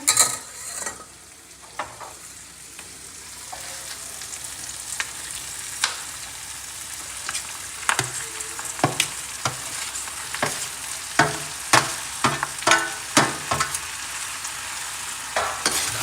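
Carrots tossed into hot oil for a pickle crackle and sizzle steadily, with repeated sharp scraping clicks of a spoon stirring against the pan throughout, no voices.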